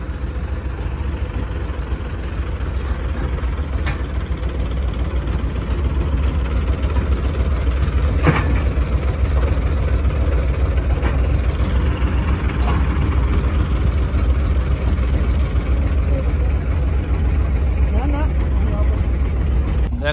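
A tractor engine hauls a trolley and a boat through a river, a loud, steady diesel drone that runs throughout under people talking.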